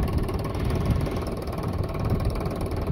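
A tractor engine idles nearby with a steady low clattering chug, continuous and fairly loud throughout, with no voices over it.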